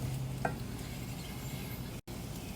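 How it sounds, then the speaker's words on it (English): Upma is stirred steadily in a pan, a soft continuous scraping and faint sizzle heard close up and alone, with a brief dropout near the end. "you want to just keep stirring it without stopping"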